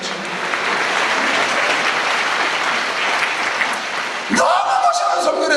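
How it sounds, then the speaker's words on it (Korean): A church congregation claps together in steady, dense applause that fills the space throughout, rising slightly at the end as voices and clearer tones join in. "박수."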